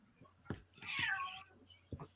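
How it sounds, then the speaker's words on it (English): An unhappy house cat meows: a short cry, then a long drawn-out wail near the middle and another brief call at the end, fairly close and clear over a quiet room. "Even the cat's not happy."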